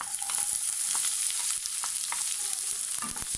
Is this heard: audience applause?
no